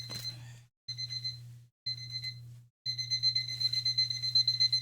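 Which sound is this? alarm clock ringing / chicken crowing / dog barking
alarm clock ringing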